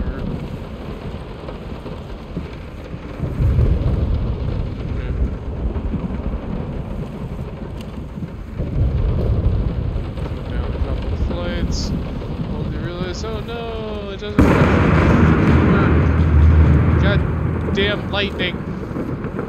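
Thunderstorm in the horror game Layers of Fear, with steady heavy rain, wind noise and deep rolling thunder swelling in loud bursts, while faint voices murmur underneath.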